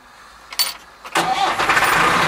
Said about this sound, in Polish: Zobaczymy, jak on odpali teraz.